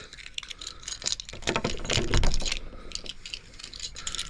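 Keys jingle and scrape against a lock close by, with clicking and rattling as they are jiggled and turned.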